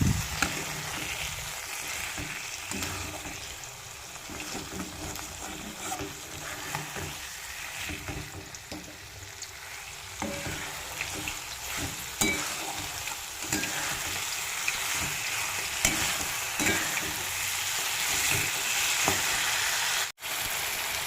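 Boiled goat meat frying in a spiced masala, likely for a thin goat curry with potatoes, sizzles steadily and close for the whole stretch, with occasional scrapes of stirring and no voices.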